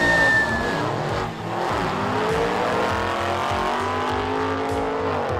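A four-wheel-drive Audi launches down a drag strip, its engine screaming loudly and climbing through gears, with brief tire noise at the start and a steady, close, powerful roar throughout.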